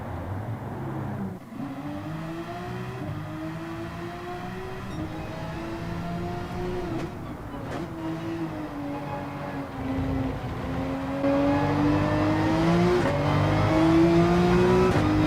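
A Porsche 911 RSR GT race car in the Gran Turismo 7 racing game, rolling into the pit at night during a 12-hour race at Daytona, its engine a steady, humming drone that slowly swells louder as it nears.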